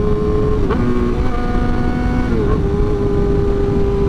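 A 600cc sport motorcycle engine revs loud and close with a steady, buzzing drone and slight shifts in pitch.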